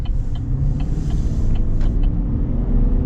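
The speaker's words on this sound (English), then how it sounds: "Gotta love that V8 power." A 2024 Chevy Silverado Trail Boss pickup with a 5.3 V8 pulls hard, its deep, steady engine rumble filling the cabin without a break, with faint high ticks from inside the truck.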